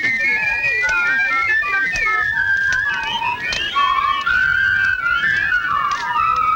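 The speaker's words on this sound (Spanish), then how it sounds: "¿Sabes silbar? Sí. A ver, silba." A person whistles a wavering, continuous tune, fairly loud and close, with sliding pitches and no talk.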